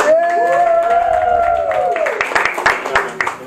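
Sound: audience applause at stand-up show

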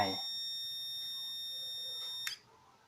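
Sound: speaker buzzer of dark-activated LDR circuit project

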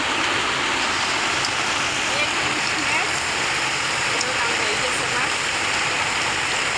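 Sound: heavy rain

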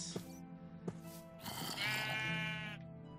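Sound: sheep bleating in the video game Minecraft

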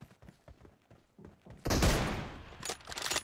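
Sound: gunshot in a shooting video game

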